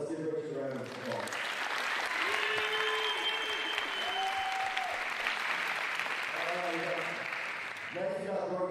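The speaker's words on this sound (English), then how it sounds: "So let's give Richie a round of applause" Audience applause at a high school college signing day, a steady wave of clapping lasting several seconds, with a voice speaking before it begins and again as it fades.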